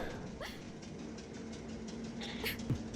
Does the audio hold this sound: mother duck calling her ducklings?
no